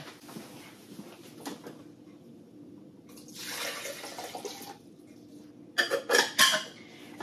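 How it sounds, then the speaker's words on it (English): Water is poured to refill the tank of a Nespresso Vertuo coffee machine, a faint trickle rising to a splashing flow with a few sharp clinks of the tank being handled, close and without talk. "Let's get more water."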